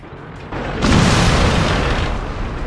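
In a World of Tanks battle, an artillery shell strikes the player's own tank with a heavy, close boom that swells and then lingers as a loud rumbling roar.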